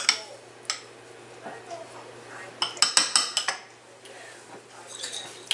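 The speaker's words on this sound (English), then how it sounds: "I'm going to find myself a good sized fork here and begin incorporating all this stuff" A fork scrapes and clinks against a bowl, working ingredients together in a series of sharp metallic taps and rattles, with a dense burst in the middle. Someone talks now and then between the clinks.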